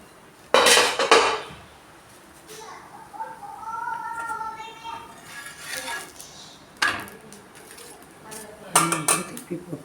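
A spatula scrapes and clatters against a pan while flipping a raagi adai, with sharp metallic clanks at the start and end and quieter sizzling and kitchen sounds in between.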